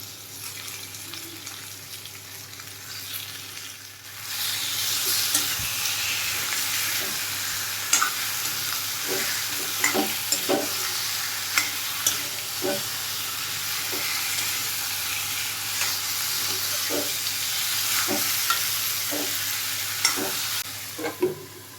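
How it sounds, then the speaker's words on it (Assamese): Chicken pieces frying in oil with crushed ginger and garlic for an Assamese curry, a loud continuous sizzle that swells as the meat goes in, with regular clinks and scrapes of a spatula stirring the pan. "তাৰ পাছতে মই মাংসখিনি দি পেলাই ভালদৰে ভাজি ল'ম।"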